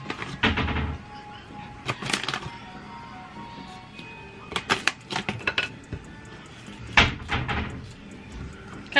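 Drawers being pulled open, heard as a series of wooden knocks, slides and clatters in irregular bursts at close range, with no talking.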